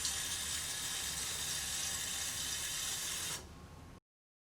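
Water runs steadily from a faucet into a balloon with a broad, hissing rush, then abruptly softens before stopping.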